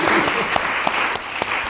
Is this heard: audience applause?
yes